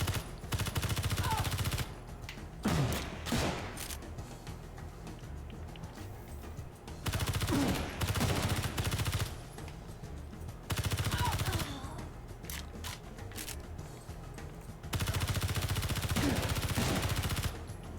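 Repeated bursts of gunfire in the XIII video game arrive in loud clusters of rapid shots, each lasting a couple of seconds, separated by quieter stretches of background game sound.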